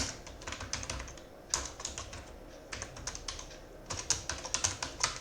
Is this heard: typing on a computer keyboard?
yes